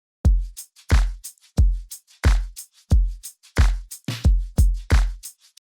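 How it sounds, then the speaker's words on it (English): A drum loop of kick, snare and hats repeats steadily in a tight electronic groove, with deep kicks thumping on a regular beat under crisp upper hits, loud and close with no talk. "So the next thing we have here are the drums, which all together sound like this."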